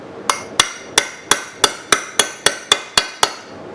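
A hammer drives a 7/8 part into place on a motorized scooter build, striking eleven sharp metallic blows in a steady, even rhythm, close and loud with brief ringing after each hit.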